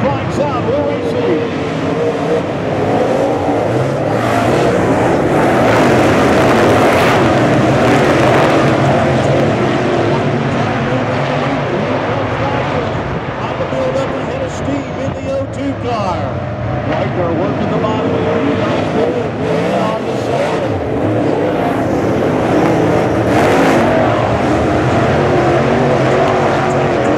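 Dirt late model race cars at full throttle around Bubba Raceway Park, a dense, continuous engine roar from several cars rising and falling as they pass, with an announcer calling the race over it.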